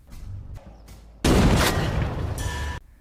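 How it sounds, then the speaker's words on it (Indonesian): A loud burst of gunfire in a sniper film lasting about a second and a half, sharp and close, set against a quieter rumbling background. "Mendengar tembakan tersebut, Beckett segera pergi ke sumber suara untuk"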